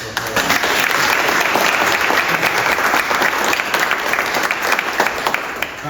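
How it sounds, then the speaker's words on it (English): Steady, dense applause from a large audience at a healthcare bursary unveiling fills the whole stretch, even and continuous without pauses. "Again, a round of applause."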